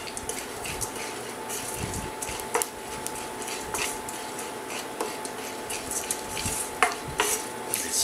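Almonds toasting in a pan, with a soft steady sizzle, occasional spoon scrapes and light metallic clinks, no talking.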